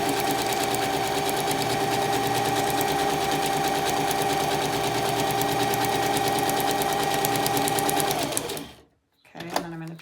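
Sewing machine running a zigzag stitch on a long fabric strip, a steady, fast, close mechanical whir that runs for about eight seconds, then stops, with a short burst of handling noise after.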